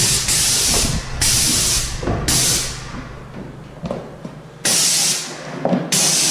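Spray paint hissing in several long bursts over a window protected by a paint shield, loud and close, with short pauses between passes.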